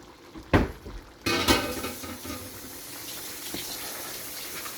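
Pork afritada sauce with brown sugar being stirred in a pan, giving a couple of sharp utensil clanks followed by wet, scraping mixing sounds that fade to a steady low simmer.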